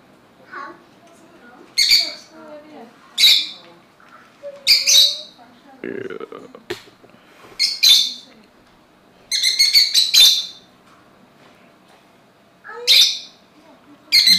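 Loud bird calls and squawks come in separate bursts through the scene, several sharp shrill cries spaced a second or two apart, with a lower squeak between them and quiet room noise in the gaps.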